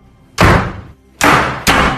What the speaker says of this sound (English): All of a sudden, the door started to shut.